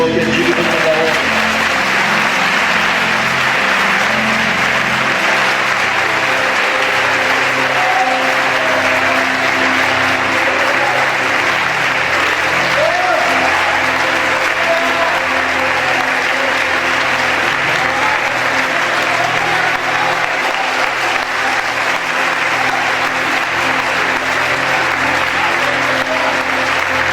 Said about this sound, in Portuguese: Todos podem aplaudir bem forte ao Senhor